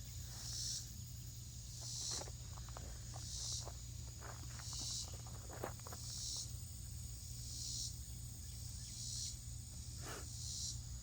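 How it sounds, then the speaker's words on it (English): Cicadas buzz in regular pulsing bursts, about one every second and a half, over steady outdoor background noise with faint scattered clicks. "You hear the cicadas? I hear the cicadas."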